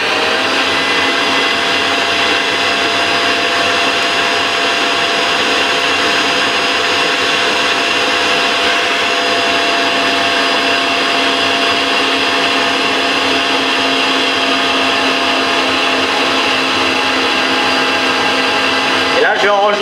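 Electric hand mixer run at full speed, beating choux pastry dough after eggs are added; a loud, steady broadband whir holds nearly unbroken for about twenty seconds, then cuts off at the very end.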